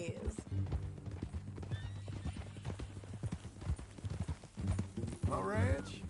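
Horse hooves clip-clop steadily while a horse whinnies twice in Red Dead Redemption II, set against low game music and characters talking nearby.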